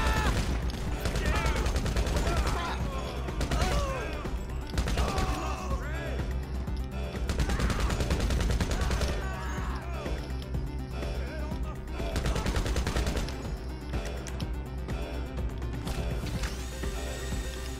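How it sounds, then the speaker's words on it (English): Rapid bursts of automatic gunfire and crashing impacts fill a shootout in the video game GTA 5, loud and continuous, with a voice speaking over the barrage. "Where is I getting shot from?"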